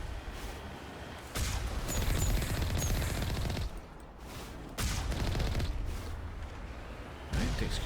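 Turret gunfire in the Mass Effect video game blasts as dense, sustained bursts of rapid shots, loud and close. The bursts break off briefly and resume several times.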